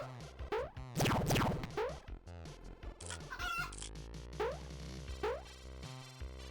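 Chickens clucking and squawking in a video game, repeated excited bursts over busy, layered game sound effects at a steady, fairly loud level, with no talking.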